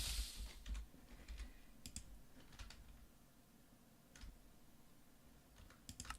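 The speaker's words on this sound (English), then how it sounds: "I'll just type it in." Keystrokes on a computer keyboard come in short bursts of quick, light clicks with pauses between them, close and fairly quiet over faint background hiss.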